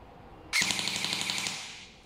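A Poseidon Triton CQB airsoft electric gun fires full auto. One fast, close, rattling burst lasts about a second and a half after a brief quiet start.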